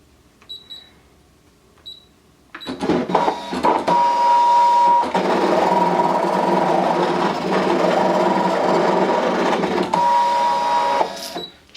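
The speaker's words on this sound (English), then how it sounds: "we're going to hit cut" A Brother ScanNCut cutting machine starts after a couple of short beeps and runs a steady, loud mechanical whir with a printer-like hum while cutting a stamp design, then winds down with a final beep.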